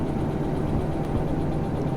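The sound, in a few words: locomotive engine running in Derail Valley video game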